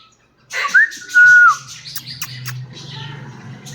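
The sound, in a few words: pet parrot whistling and chirping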